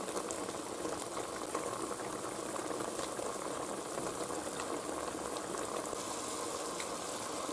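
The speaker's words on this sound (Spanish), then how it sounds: "Ya está hirviendo y ahora tiene que reducir el líquido." Wine-based cooking liquid for garlic rabbit bubbles at a steady, dense boil in the pan as it reduces, a continuous close crackling simmer with no talk.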